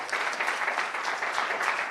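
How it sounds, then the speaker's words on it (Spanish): A church congregation applauding the Lord, a dense, steady wash of clapping from many hands that holds evenly throughout with no voice over it. "Dale un aplauso al Señor, ¿verdad?"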